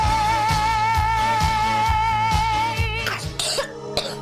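A child coughs in a radio advert for a children's cough syrup: three or four harsh, close bursts come near the end, after a bright musical jingle with a steady thumping beat.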